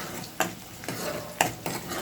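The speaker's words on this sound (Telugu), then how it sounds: "చూడండి ఇందులోనే టమాటా వేసేస్తాము. బాగా వేగిద్ది" Tomato and onion frying in a pan for a brinjal masala curry, with a steady low sizzle and a few sharp scrapes of a spoon stirring, close by and with no voices.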